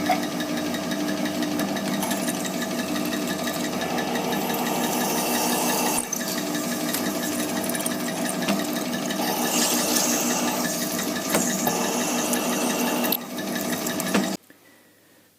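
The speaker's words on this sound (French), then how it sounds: "il faut contrepercer tous les trous et j'ai mis des cales pour pouvoir déboucher" A power drill running steadily while back-drilling holes through a prototype part, a continuous loud whirring grind with brief dips between holes before stopping near the end.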